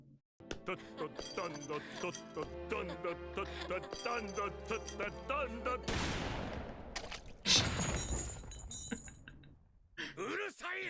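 A sharp gunshot cracks through a dramatic One Piece anime scene, followed by a second bang and the bright crash of shattering glass, with music and voices around it.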